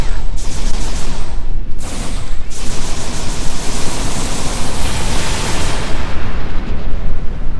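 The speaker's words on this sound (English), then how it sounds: "That was an explosion of sufficient magnitude to cause a breach." An explosion in the video game Star Trek Online blasts a hull breach, a loud sustained roaring burst of rumbling noise that fills the whole stretch with only brief dips.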